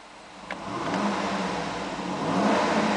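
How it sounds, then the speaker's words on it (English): A 2007 Cadillac Escalade engine idles and then revs up, its steady mechanical drone rising and swelling in loudness, recorded close with no talking. "It's running, I'm going to rev it."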